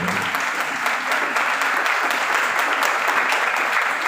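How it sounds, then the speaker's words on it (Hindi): Audience applause at a gathering, a steady, dense clapping from a crowd that stays loud and even throughout without a break. "पास्टर बाबर खुर्शीद है, इनके लिए भी हम तालियां बजाते हैं।"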